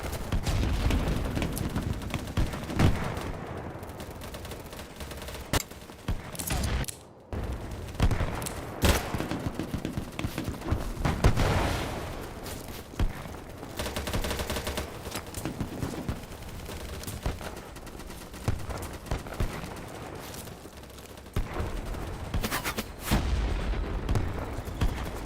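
Gunfire in a video game rattles almost nonstop, dense bursts of shots and heavy blasts at close range with only brief gaps, no voices over it.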